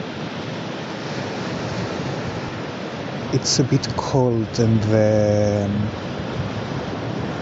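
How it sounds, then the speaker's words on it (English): Restless, heavy sea waves washing steadily on the beach at Playa de San Juan, Alicante, heard from a wooden promenade in the late afternoon as a constant broad surf roar, with a person speaking briefly over it. "the sea is a bit restless and heavy"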